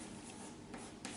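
Chalk or marker scratching across a board during a chemistry lecture, a steady faint rubbing and scraping with two short sharper strokes near the end, no voice over it.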